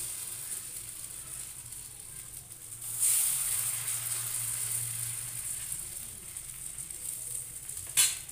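Rice flour pitha batter frying in a kadai over low heat, giving a soft, steady hiss and sizzle close by with a brief louder burst partway and a sharp clink near the end, no talking.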